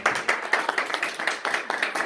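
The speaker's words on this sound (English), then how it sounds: "a round of applause from the far" An audience at a leadership summit claps in a quick, uneven patter of hand claps, moderately loud and sustained for a couple of seconds.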